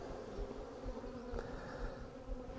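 A swarm of Italian honey bees fills the air with a dense, continuous buzzing hum, close and steady throughout with slight swells, and no voices.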